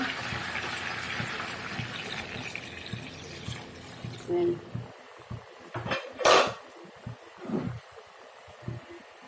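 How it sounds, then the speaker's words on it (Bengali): Gravy water gushes into a pot of cooking chicken with boiled potatoes, a loud pouring rush for a few seconds that gives way to quieter scattered clatter and stirring. "ঝোলটা দিয়ে দিচ্ছি"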